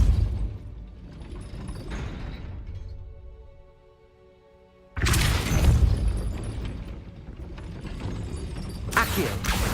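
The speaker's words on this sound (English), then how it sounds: "That looks as if it might raise the gate." A gate mechanism grinds and ratchets loudly in the video game Hogwarts Legacy. The clanking fades into a quieter humming lull, then a heavy rumbling surge of gears and chains kicks back in and carries on to the end.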